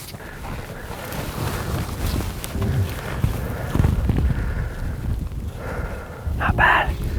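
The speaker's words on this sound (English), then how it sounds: "The wind's starting to pick up a little bit" Wind blowing outdoors during an archery hunt for a mule deer, a steady rough rumble of wind buffeting the microphone throughout, with a brief rustling burst near the end and no talk.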